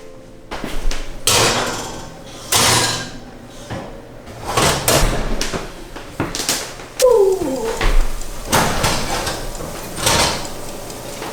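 An oven door clunks shut as an eggplant and kale vegan lasagna goes back in, with a few knocks and thuds over several seconds in a quiet kitchen.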